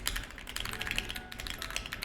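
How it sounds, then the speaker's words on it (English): Rapid, steady typing on a mechanical keyboard with creamy-sounding switches, close and continuous clicking and clacking with no talk. "I like your keyboard sound."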